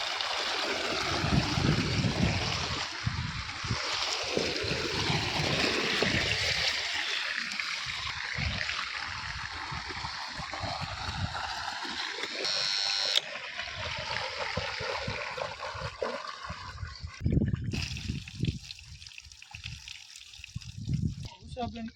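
Water gushing and splashing steadily from a running 7.5 hp pump motor on a farm, a continuous rushing flow with someone talking over it for much of the time.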